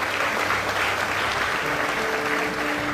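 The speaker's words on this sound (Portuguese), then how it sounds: "Vamos acolhê-lo com uma salva de palmas." An audience at a church parish event claps continuously, a thick and fairly loud patter of hands that holds steady throughout.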